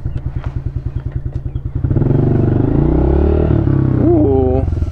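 A new 2024 Honda CRF110F dirt bike idles with a loud, close, steady single-cylinder putter just after its first start, then revs to a rough, louder drone, with a brief voice near the end.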